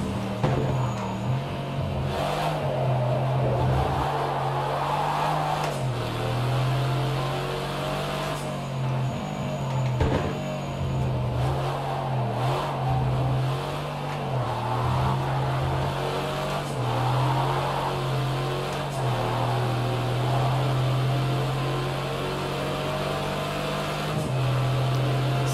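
Mercedes-Benz AMG GT R engine held near full throttle in fifth gear during a drift lap in Project Cars 2, a steady droning roar with slight pitch shifts, loud and continuous throughout.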